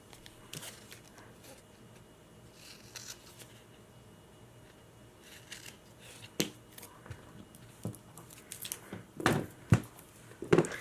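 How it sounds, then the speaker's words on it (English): Scissors trim score tape on a paper file folder flipbook, making a series of short, crisp snips and paper rustles that grow louder and more frequent toward the end, close to the microphone. "Grabbing my scissors and let's trim that out a little bit."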